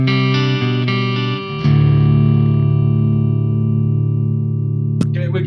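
A clean electric guitar tone through a Ground King FX Detonator booster, a few picked notes followed by a loud sustained chord ringing out steadily, with a short pick scrape near the end.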